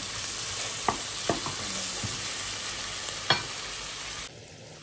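Onion, tomato and garlic sauté in a pan with a steady sizzle, broken by several scraping stirs of a spatula, until the sound cuts off abruptly near the end.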